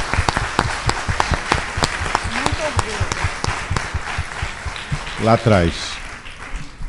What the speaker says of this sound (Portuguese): Então tem que fazer uma salva de palmas gigantesca.